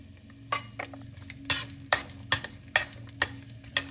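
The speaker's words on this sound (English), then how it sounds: "add 3 cloves of roughly chopped garlic and a roughly chopped 1-inch piece of fresh ginger. Saute these together for 2 minutes" Chopped garlic and fresh ginger sauté in a pan with a soft continuous sizzle, punctuated by sharp, regular scrapes and taps of a spoon roughly every half second, close by.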